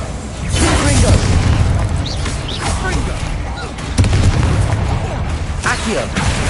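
Confringo fire spell explosions in Hogwarts Legacy go off as several heavy booms with sharp bursts, the loudest hit landing near the middle of a steady, noisy battle bed, while a voice speaks under the action.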